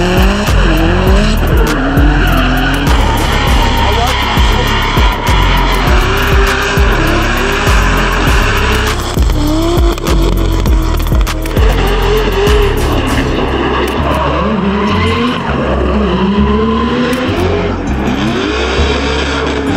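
Drift cars slide around the Rustavi International Motorpark track, tires squealing continuously and loudly over roaring, revving engines, one long overlapping skid after another with no pause.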